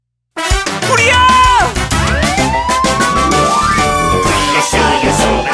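A cartoon fire truck siren wails in a children's rescue-vehicle song, its rising and falling tone sweeping loudly over bright music and singing voices.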